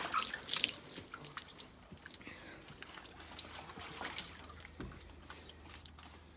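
Water drains on a farm, slipping through a small gap at the bottom and on into a drain behind a pod, heard as faint scattered drips and trickles over quiet outdoor background noise.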